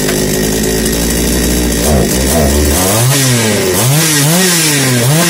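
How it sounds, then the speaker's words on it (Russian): Patriot chainsaw with a 45 mm piston, freshly repaired carburetor, runs alone at close range: a steady loud idle that then revs up and down in several rising and falling surges. "Все, пила работает отлично."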